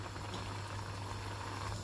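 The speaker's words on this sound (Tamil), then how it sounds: "இப்போ இதை நல்லா கொதிச்சிட்ருக்கு" A green tomato and eggplant coconut milk curry bubbles softly and steadily in a pot at a rolling boil, a faint continuous simmering hiss over a low hum.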